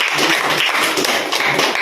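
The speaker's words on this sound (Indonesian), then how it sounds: "Tepuk tangan." Students in a science classroom burst into applause, a loud, steady wash of many hands clapping together throughout.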